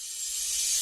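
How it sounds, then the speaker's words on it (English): A crash cymbal effect in a reggaeton beat washes out as a bright, sustained hissing shimmer that swells slightly over its brief length. "And after this I add crash effect"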